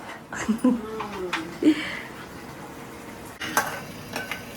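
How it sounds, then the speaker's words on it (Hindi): Spices crackle and sizzle briefly in hot oil as a tadka tempering is made, with a few clinks of utensils and a voice talking over the cooking noise. "तड़का तैयार हो रहा है"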